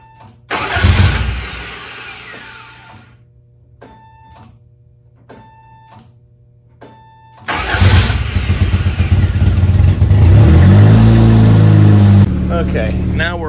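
A 1988 Toyota MR2 AW11 engine cranks and catches, falls quiet while a few short electronic beeps sound, then fires again and settles into a loud idle before revving up and down, close to the microphone.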